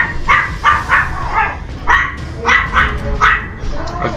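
A dog barks repeatedly in the dark fantasy video game Darkest Dungeon, a steady run of sharp, loud barks and yips over a low rumbling game background.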